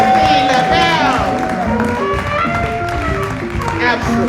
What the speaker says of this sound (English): Let's give a round of applause for Miss Dorothy LaBelle.